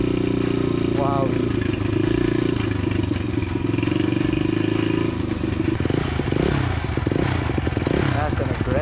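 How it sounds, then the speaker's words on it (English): A motorcycle engine rumbles loudly and continuously nearby on a ride to a mountain campsite in Tanay, Rizal, with clattering and throttle changes in the second half. "That's an aggressive sounding bike."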